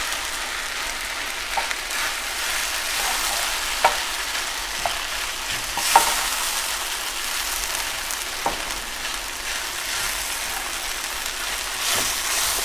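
Fried rice with gochujang sizzling steadily in a pot while being stirred, a dense, even hiss broken by a few scraping clicks of the utensil, close and continuous, no voices.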